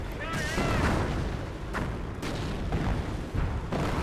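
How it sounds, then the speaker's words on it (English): British artillery fire in Company of Heroes, a run of heavy booms and blasts across the battlefield mixed with dense gunfire, loud and continuous with a voice talking over it. "British artillery in the central sector"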